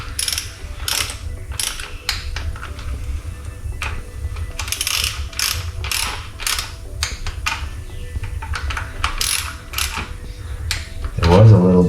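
A ratchet tightens bolts on a coolant hose job on a 1999 BMW 328i (E46). It gives repeated close bursts of fast clicking with short pauses between them. A brief knock comes near the end, and no one speaks.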